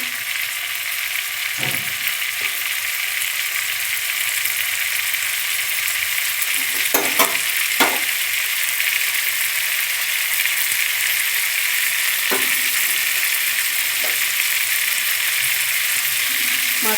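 Giant freshwater prawns (golda chingri) fry in a pan with a few small onion fritters, a steady broadband sizzle running throughout, with occasional clinks and scrapes of a utensil turning the food.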